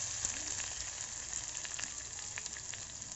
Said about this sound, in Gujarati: લીલા મરચું આપણે બરાબર હલાવી દઈશું.